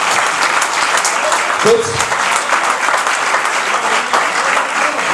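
An audience at a post-match gathering for URB Vanves gives sustained, steady applause for player Jarod Rousseau, with a voice briefly speaking over the clapping.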